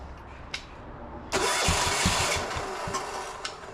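Diesel engine repowering a Gravely C10A tractor cranks briefly, then catches and settles into a steady rattling idle with rhythmic knocking pulses, near and moderately loud.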